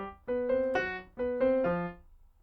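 Melody line played as a short phrase of clear pitched notes with chords, including a chromatic rundown, close and alone with no talking.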